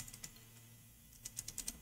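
Quiet keystrokes on a computer keyboard come in a few short bursts of light taps separated by a pause, close and faint with no talking.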